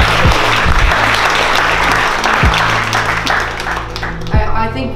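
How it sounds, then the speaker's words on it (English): Audience applause at a strength training seminar in New York City, a steady, dense crowd clapping at close range with a few low thumps in the room, easing off slightly toward the end. "So round of applause for that real quick."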